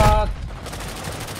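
A shotgun fires in the Warzone video game on Rebirth Island: a single loud, close blast that quickly decays into a rumbling tail.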